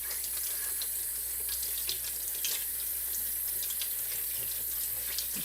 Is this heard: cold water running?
yes